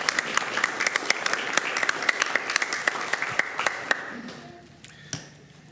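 Applause at a school district board meeting marks last year's achievements, a scattering of distinct claps over a steady wash that thins and fades out near the end, with a few isolated claps trailing.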